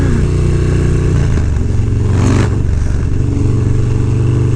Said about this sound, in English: Nothing sounds like a twin cam.